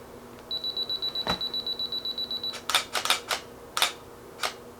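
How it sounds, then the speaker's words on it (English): A panoramic panel head on a camera tripod rotates, and a series of sharp mechanical clicks and clunks sound as it passes its 30-degree detents. They come after a steady electronic beeping pulse, close and fairly quiet. "This panel head will click every 30."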